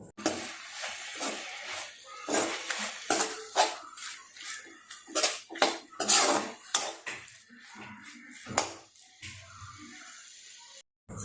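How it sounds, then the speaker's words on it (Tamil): Spoon scraping and clinking against a pot while masala of turmeric, coriander powder and chilli powder is stirred into radish for sambar, repeated close metallic strokes in an irregular rhythm with no talk. "இப்போ மசாலாவெல்லாம் நல்லா கிண்டி விடுங்க."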